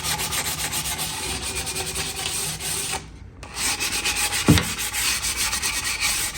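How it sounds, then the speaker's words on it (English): Sandpaper rubs against the trimmed edge of a wood veneer in close, continuous scratchy strokes, with a short pause midway and a small knock just after. "So it got me a really close shave, and all I have to do is sand that a little bit."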